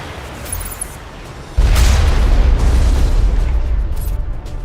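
A sudden heavy boom from artillery in the video game Mass Effect bursts in after a quiet stretch, followed by a loud, sustained low rumble that slowly fades.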